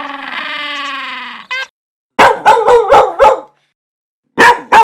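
A goose gives an initial honking squawk, then a dog barks several times in quick succession, loud and close, followed by a pause and another short burst of barks.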